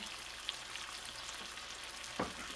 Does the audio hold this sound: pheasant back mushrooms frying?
yes